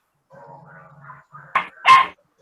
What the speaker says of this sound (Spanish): Es que tengo a los 2 perritos acá haciéndome compañía